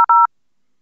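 A SIP desk phone sounds two brief, loud DTMF dialing tones, the first very short and the second a bit longer, followed by silence.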